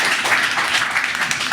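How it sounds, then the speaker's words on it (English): A conference audience applauding, a dense, steady wash of many hands clapping at once, fairly loud and sustained throughout with no break. "A round of applause for these guys"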